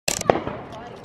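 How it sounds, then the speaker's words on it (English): A sharp Fourth of July firework bang bursts close by, followed by a brief crackling tail, with a voice mixed in. "Do you like the fireworks, baby?"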